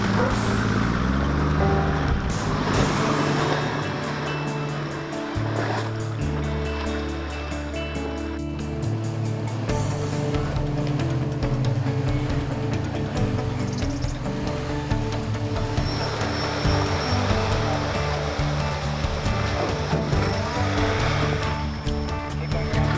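A diesel 4WD without a snorkel fords a river about a metre deep on the GunRock fire trail, with churning, sloshing water and a steady engine drone running the whole way through, under occasional talk.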